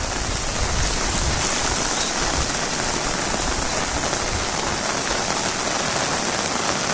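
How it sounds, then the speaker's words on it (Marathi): Heavy monsoon rain pours steadily in the Konkan, a dense, unbroken roar of downpour close by that stays loud and even throughout, with no voices. "कोकणामध्ये एकदम तुफानी मुसळधार पाऊस पडतोय"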